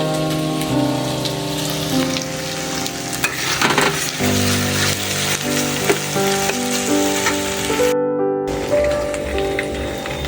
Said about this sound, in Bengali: আর গাজরগুলোকে ভেজে নেব